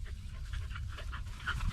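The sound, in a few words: dogs panting outdoors on a ranch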